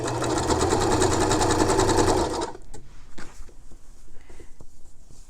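A sewing machine stitches shirring on a garment, running as a loud, steady whir for about two seconds, then stopping, leaving quieter handling clicks and rustles.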